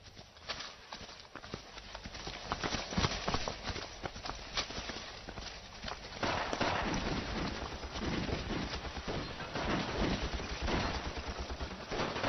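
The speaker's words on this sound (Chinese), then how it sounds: "这枪声好像是从三棵树那边传过来的" Gunfire in a Chinese anti-Japanese war drama rattles through a busy battle soundtrack, with irregular sharp cracks and denser bursts, a louder stretch in the second half, and clattering rhythmic noise mixed in.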